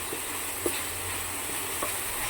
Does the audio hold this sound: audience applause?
no